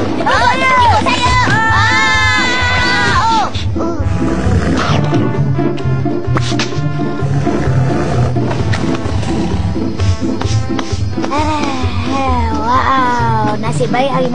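In a Malay animated cartoon, a tiger lets out loud, drawn-out roaring growls in repeated rising and falling waves, mixed with voices and lively background sound throughout.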